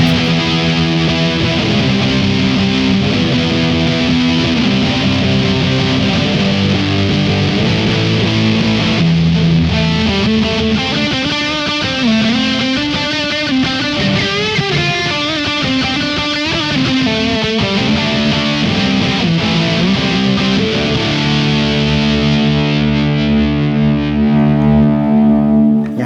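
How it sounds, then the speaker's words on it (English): Electric guitar played through a Tone City Wild FRO overdrive pedal, loud continuous driven chords and sustained notes with some melodic bends, close and alone, ringing out toward the end. "It gives you a full dynamic from a simple pushed valve kind of sound, almost like I said, like a boost or a tube screamer kind of thing"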